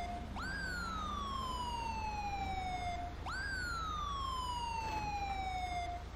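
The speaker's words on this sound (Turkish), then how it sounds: "Evet, ambulans geldi." An ambulance siren in GTA 5 wails in two long, loud sweeps, each rising sharply and then sliding slowly down, over a steady engine hum with no talk.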